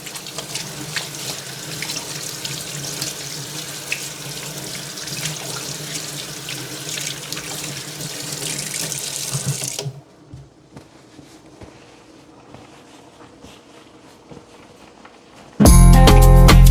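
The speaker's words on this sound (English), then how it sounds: "So I'm going to wash my hand." Water runs steadily from a kitchen tap while hands are washed, splashing for about ten seconds, then falls to quiet, faint handling sounds before a sudden loud burst at the end.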